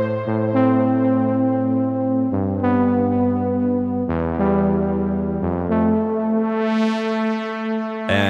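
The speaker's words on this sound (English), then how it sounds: "It's a serum preset called Bliss, which is in our Omnia pack, and it's this really warm kind of analog synth sound" Warm analog-style synth from the Serum preset Bliss in the Omnia pack, sustained chords for a stutter house track, changing a few times with the tone brightening near the end, loud and alone with no talking.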